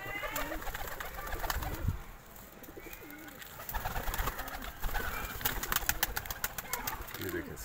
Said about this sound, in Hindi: मेजोरिटी कबूतरों की है वो चने की दाल पे अटैक किया है सबसे पहले